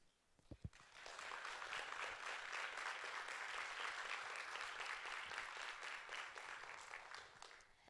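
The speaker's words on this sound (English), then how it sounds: "we'd like to give you guys a round of applause as well" A couple of sharp thumps, then a crowd breaks into sustained, even applause that continues throughout, slightly distant and faint overall.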